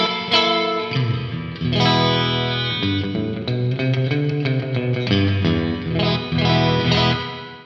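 Electric guitar on the neck pickup, run through a Donner Verb reverb pedal, plays a steady run of ringing notes and chords with a wash of reverb trailing behind them, loud and close, with no voice.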